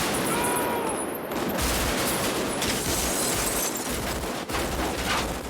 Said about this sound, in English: the full load made moving through those automatic weapons, and the way the sound ricocheted off the walls of the buildings of an empty downtown.